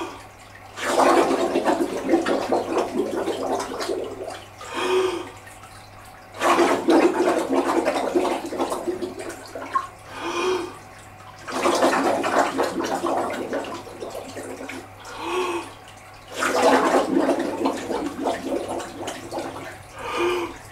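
Bubbly underwater exhalations from a swimmer during a breaststroke breathing drill, coming in four long gurgling bursts a few seconds apart with short quieter gaps between them, fairly close and with no talking.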